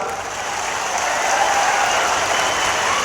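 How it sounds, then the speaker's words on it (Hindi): A large crowd at an Amit Shah political rally in Assam claps loudly for Modi, a dense, sustained roar of applause that holds steady and swells slightly, with no clear speech. "एक बार मोदी जी के लिए जरा जोर से ताली बजाइए जरा"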